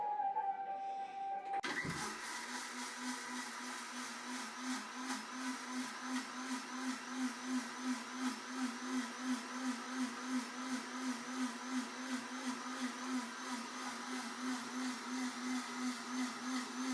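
A kitchen mixer grinder grinding a chutney-like paste, a sharp start after a brief quieter moment, then a steady loud whirring motor drone with a regular pulsing wobble that runs on unbroken, with no voices.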